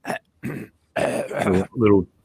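A man coughs and clears his throat in several rough, close bursts after breathing in drywall and wood dust from drilling holes, with short pauses between the fits.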